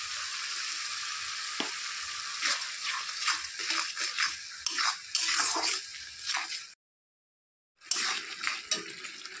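Ground tomato with salt sautéing in a pan: steady sizzling with repeated stirring scrapes, a brief silent gap, then the frying resumes.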